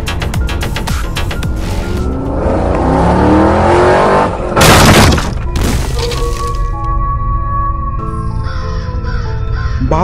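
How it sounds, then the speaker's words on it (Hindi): A car starts and drives off toward a bungalow in a Kamla horror game, with engine revving and rumbling, a sharp crash or shatter midway, and crow caws mixed into the eerie game soundscape. "और फिर रॉड बाबा को गाड़ी में बिठा के बंगले की तरफ निकल जाता है।"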